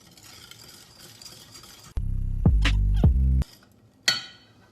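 A wire whisk beats cake batter in a bowl, giving short, close, scraping strokes that come in bursts with a brief clink at the end; no talking.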